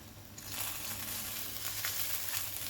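Water poured into a hot pan of fried egg pieces sets off a loud, steady hiss and crackle that swells within half a second and then holds, close and even.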